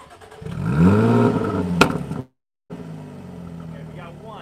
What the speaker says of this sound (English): this also gives you a bit of extra pops and overrun at the startup